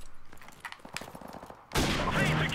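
Rapid gunfire in Call of Duty Modern Warfare Remastered, a video game, with a string of fairly close, moderately loud shots followed by a sudden louder, denser burst of firing.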